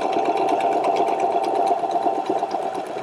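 A Husqvarna Viking H Class E20 sewing machine stitches in a steady, even whir with a fast mechanical rhythm, close and continuous throughout with no talking.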